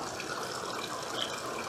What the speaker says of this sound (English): We're going to add some water to our bowl.